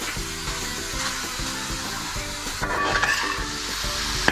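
Chicken pieces stirred into hot masala for a Kerala-style chicken and vegetable kurma, frying with a loud, continuous sizzle and scraping stirs in the pan.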